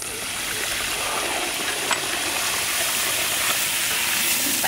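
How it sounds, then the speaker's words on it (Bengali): Water poured into spice paste frying for a sea bata fish curry gives a steady, loud sizzle with bubbling and trickling that holds throughout, with no talking. "মশলাটা ভোনা হয়ে গেছে, আমি জলের পানিটা দিয়ে দেবো"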